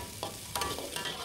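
Chicken pieces frying with garlic and shallots in a pan for a tomato-sauce dish, a soft steady sizzle broken by a few scraping stirs, faint and near, with no speech.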